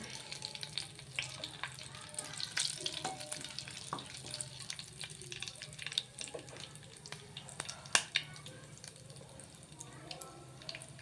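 Whole spices (shahi jeera, a small piece of cinnamon and a bay leaf) frying in hot oil for a chicken masala curry give a steady close sizzle, broken by sharp crackles and pops.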